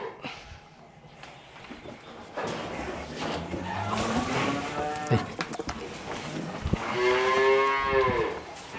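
Cattle feeding on chopped silage on a farm let out several drawn-out moos, close and fairly loud, over low shuffling background noise.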